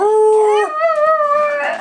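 A small dog howls up close in a loud, drawn-out wavering note that rises and bends, lasting nearly two seconds, with no talking over it.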